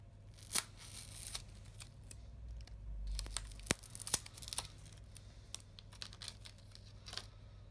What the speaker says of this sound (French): On retire bien toute la colle,